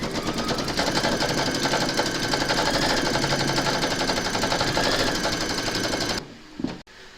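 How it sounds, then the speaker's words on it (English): An embroidery machine stitches a round on a hooped Christmas bottle tag with batting, a steady loud rapid mechanical chatter for about six seconds that stops with a short clunk near the end. "Pop your hoop into your machine and stitch round number 2 to secure it."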